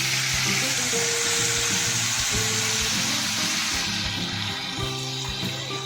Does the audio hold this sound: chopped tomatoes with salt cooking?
yes